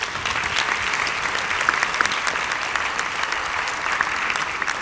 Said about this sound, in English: Ladies and gentlemen, please give table number 29 a warm round of applause as they stand up.